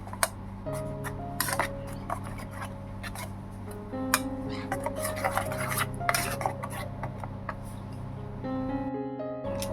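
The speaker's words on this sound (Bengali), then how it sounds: "সব উপকরণগুলো ভালোভাবে মিশিয়ে নেব" Spoon scraping and clinking against a bowl while egg curry ingredients are mixed with mustard oil and Kashmiri chilli powder, steady irregular ticks and taps over a sustained musical background.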